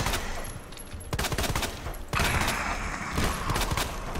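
Machine gun fire in Resident Evil 2, rapid bursts of loud automatic shots with short pauses between them and a dense, continuous crackling wash, no voices heard.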